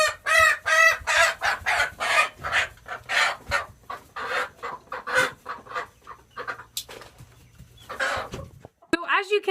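Hens and a rooster in a quiet barn, a series of close, loud clucks and squawking calls in uneven bursts with brief pauses, one sharp call near the end over a low background hum.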